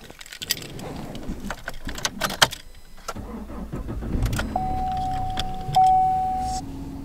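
A truck is started on a cold morning: keys jingle and clicks sound, then the engine cranks and catches, settling into a steady idle with a faint whine, all close by and with no talking.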